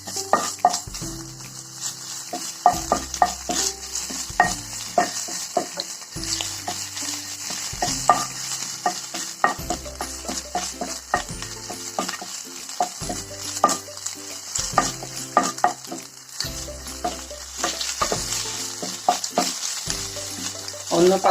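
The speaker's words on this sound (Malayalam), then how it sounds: "ഇനി പാനിലേക്ക് ഓയിൽ ഒഴിച്ച് ഇഞ്ചിയും വെളുത്തുള്ളിയും കൂടി അരച്ച പേസ്റ്റ് ഇടാം" Ginger-garlic paste fries in oil in a pan while a spoon stirs it, steady sizzling under regular scraping strokes and occasional metallic clinks, close and fairly loud throughout.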